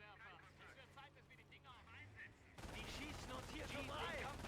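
Rapid machine-gun bursts rattle at a jeep in the Company of Heroes game, sharp and loud over engine rumble and a voice; the firing grows denser and louder partway through.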